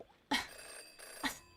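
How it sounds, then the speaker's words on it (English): A telephone rings in the Jenny LeClue video game, two bright trilling bursts about a second apart, fairly quiet, with no talk over them. "Jenny had learned never to ignore a ringing phone"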